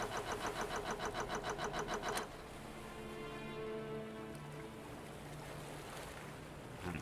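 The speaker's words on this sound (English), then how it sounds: "it's just turning the engine over constantly and making this annoying starting noise over and over and over again" An engine in the Stormworks boat-building game cranks over and over in a fast, even pulsing rhythm for about two seconds, then gives way to a steady droning hum with no voices.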